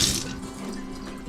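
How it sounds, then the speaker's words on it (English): Tap water runs steadily into a sink to rinse a cast iron pan, a continuous close splash and hiss with no talking. "I just rinse this off."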